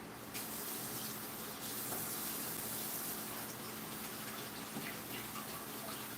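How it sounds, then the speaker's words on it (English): Hot water runs steadily from a kitchen tap over garlic being prepared for honey garlic chicken, a continuous close gushing hiss that holds at an even level throughout with no talking. "So I want to get a little hot water running on this."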